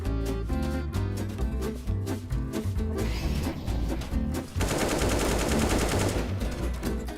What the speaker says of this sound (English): the AK sounds so nice.